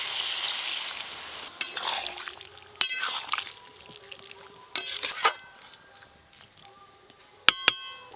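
Water is poured into a cooking pot of cut, washed Malabar spinach, starting as a hissing rush with sizzling, then giving way to scattered metallic clinks and stirring scrapes close by.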